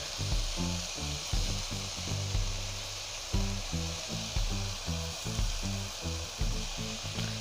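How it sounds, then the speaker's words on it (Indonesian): Tauco, a fermented soybean paste, sizzling loudly in a hot pan, a dense continuous fry hiss close up, with a steady rhythmic low thumping running beneath it. "Kemudian kita masukkan tauconya ya."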